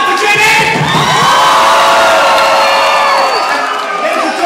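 Loud concert crowd cheering and whooping at a London dance show, a sustained wall of shrieks and screams, many of them high children's voices, that stays close and intense throughout.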